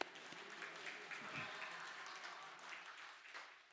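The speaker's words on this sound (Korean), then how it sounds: "박수 한번 쳐요" Church congregation applauding at a Sunday morning service, a soft, steady patter of clapping hands heard from a distance, faint and continuous throughout.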